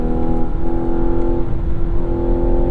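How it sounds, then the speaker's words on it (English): Synthetic engine sound piped into the cabin of a 2024 Mazda CX-90 turbo SUV under hard acceleration in manual mode, a loud steady droning hum with a few strong held tones, continuous and close, with no talking. "That fake noise is a lot, but it's not the worst fake engine noise out there."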